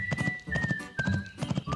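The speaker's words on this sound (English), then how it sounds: "The horse." A horse in a toy farm diorama scene clip-clops in a steady, rapid rhythm of hoof beats while a drawn-out whinny rises and falls over them, loud and close.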